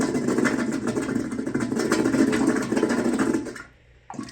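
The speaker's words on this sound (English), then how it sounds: "Once it's sealed, kind of push the plunger down like halfway, and then you just want to pump it violently like this." A plunger pumps hard and fast in a clogged toilet, making rapid sloshing, churning bursts that run close and loud for over three seconds before settling.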